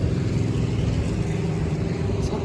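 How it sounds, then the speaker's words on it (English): Cars and motorcycles pass along a busy road, heard while walking beside it. A steady, close traffic rumble with a deep engine drone carries on without a break, and no voices are heard over it. "through all the loud motorcycles and the loud cars"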